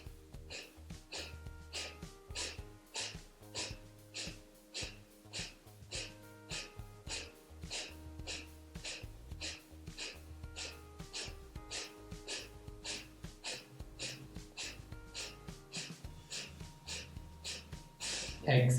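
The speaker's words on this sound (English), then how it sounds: "Now breathing deeply into your abdomen and beginning the Kapalbhati pumping." Rapid, rhythmic Kapalbhati pumping breaths during yoga practice: dozens of short, forceful nasal exhalations at a steady quick pace, close and continuous, over soft background music.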